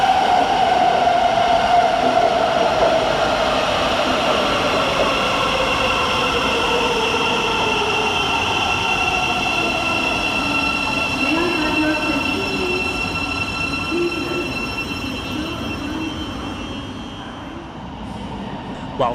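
A Thameslink Class 700 electric train pulls into London St Pancras station with a steady rumble and rising hum, faint wheel squeal on the rails, gradually easing as it slows over about nineteen seconds.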